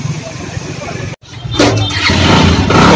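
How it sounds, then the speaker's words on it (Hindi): A Bajaj Avenger Street 220 motorcycle with a self-start fault cranks and fires up after a brief silence, its engine rising to a steady, fairly loud running note amid background noise. "बाइक हो गया स्टार्ट।"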